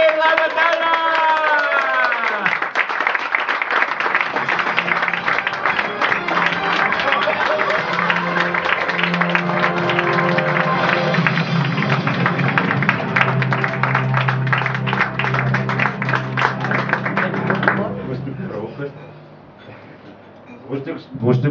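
Sustained audience clapping and cheering at a poetry slam, loud and dense for most of the stretch as the next performer walks on stage, with speech and music-like tones over it before fading out near the end.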